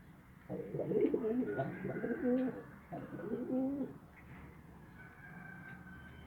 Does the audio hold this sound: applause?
no